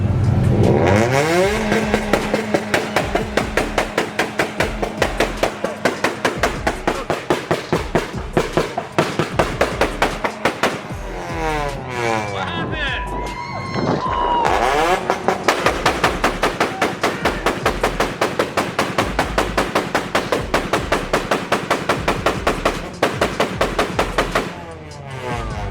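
A Honda car engine revs hard and repeatedly at close range, rising and falling in loud rapid bursts with a crackling, popping exhaust, voices occasionally audible between pulls.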